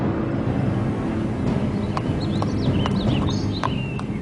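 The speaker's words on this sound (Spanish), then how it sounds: "los caballos que antes patrullaban Times Square y paseaban turistas por Central Park han abandonado la ciudad" Horse hooves clip-clop in New York City, once home to patrol and carriage horses around Times Square and Central Park; a few sharp, irregular hoof strikes sound over a steady, dense background wash.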